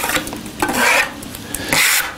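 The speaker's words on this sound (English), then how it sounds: "Scrape all that material back into the bucket." A trowel scrapes silicone render material, making several close, loud rasping strokes of about a quarter to half a second each in an uneven rhythm with short pauses between them, with no voices.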